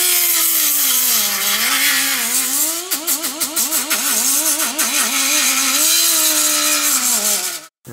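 A slow-spinning rotary tool scuffs the surface of custom fiberglass tweeter pods and A-pillars, giving a steady whining drone that wavers in pitch with bursts of rapid rasping scratches midway, close and loud, ending abruptly.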